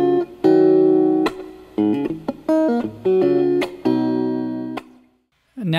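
Clean electric guitar, a 3D-printed instrument, plays a short melodic phrase of sustained single notes and chords, bright and ringing, ending in silence before a faint final pluck.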